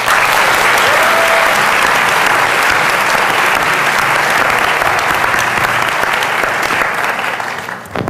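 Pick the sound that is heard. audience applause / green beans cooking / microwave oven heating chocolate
audience applause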